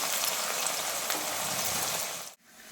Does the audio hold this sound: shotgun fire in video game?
no